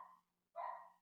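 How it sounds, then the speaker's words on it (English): A small dog barks twice, a short yap followed by a half-second pause and a longer, louder bark, close by and alone over a faint steady hum indoors. "Sorry about my little dog"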